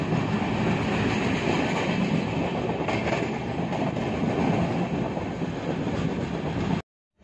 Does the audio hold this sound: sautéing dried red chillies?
no